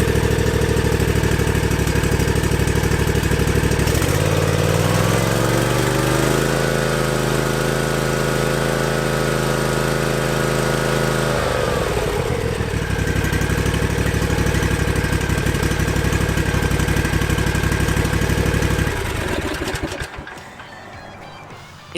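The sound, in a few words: Cub Cadet Ultima ZT2 zero-turn mower engine starting and idling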